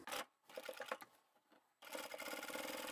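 A sewing machine back stitches through a quilted fabric bag, stopping and starting in short bursts of rapid rhythmic needle chatter, then running steadily, fairly close and clear with no voices.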